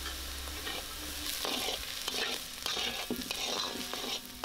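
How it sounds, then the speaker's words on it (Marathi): Spice masala, including homemade black masala, sizzles and sautés in hot oil while a spoon stirs it, a steady crackling hiss broken by soft scraping strokes, close and without talk. "मसाला तेलामध्ये चांगला परतून घेऊयात."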